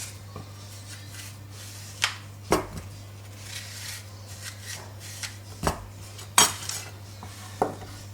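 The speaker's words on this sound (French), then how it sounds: "ensuite, on fait des tranches d'environ 3 mm. Pas trop épaisse." A knife cuts a Golden apple into thin slices about 3 mm thick, giving a run of sharp, separate cutting taps against a board at irregular intervals over a low steady hum, with no voice.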